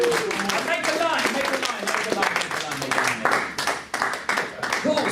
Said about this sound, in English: Can we give them a round of applause, everyone? Quick round of applause over here.